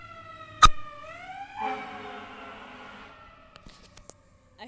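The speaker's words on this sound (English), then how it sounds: "There's a siren in the background." An emergency siren rises and wails in the background, sweeping upward in pitch and then holding its tone before fading out, followed by a few faint clicks and knocks.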